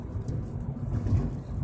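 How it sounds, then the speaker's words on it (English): As Hurricane Harvey moves over San Antonio, rain begins to fall with a heavy low rumble beneath it, a brief dense wash of sound with no speech. "But yeah, it's starting to rain."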